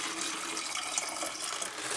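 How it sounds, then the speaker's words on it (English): Excess water poured off a seed-starting tray into a container, a steady hissing trickle of running liquid that continues unbroken, close and fairly soft. "Pour it right into the container and then get rid of it"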